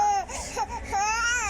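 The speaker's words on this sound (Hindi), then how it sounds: "अरे बच्ची रो रही है" A baby cries close by in wavering, high-pitched wails with a short catch of breath between them, loud and insistent.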